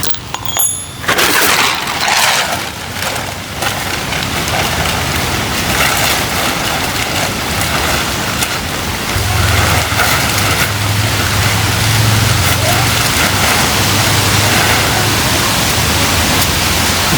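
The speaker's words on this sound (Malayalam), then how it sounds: "നല്ല കിണ്ണം കാച്ച് മഴ." Heavy monsoon rain pours steadily outdoors, a dense continuous hiss drenching a motorbike, with a low rumble joining partway through; no one speaks.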